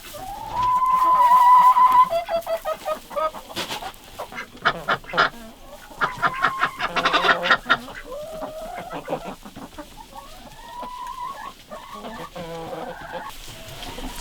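Ducks and chickens on a farm kept on deep litter make a loud, close run of quacks, clucks and rooster-like calls that overlap and trade off continuously.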